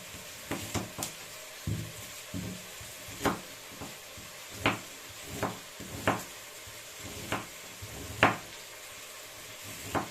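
Food frying in a pan, with onion about to be chopped nearby for a Ukrainian shpundra dish; a soft steady sizzle sits under repeated sharp clicks and knocks of kitchen handling, moderately close and quiet, with no talking.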